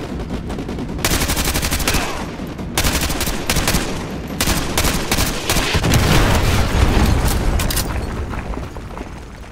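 Artillery strike in Call of Duty Modern Warfare 2: loud rolling explosions and heavy bursts of gunfire pound almost continuously for nearly ten seconds, with deep booms swelling near the middle.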